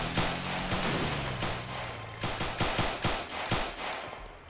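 Rapid bursts of gunfire in the military video game ArmA II, sharp repeated shots at a roadside roadblock, loud and close with a steady low hum beneath.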